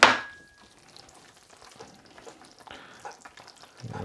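Chili and curry powder being stirred into a thick Chinese takeaway-style curry sauce frying in a pan: a loud metallic clank opens, then soft sizzling and scraping of the spoon, with another clatter at the end.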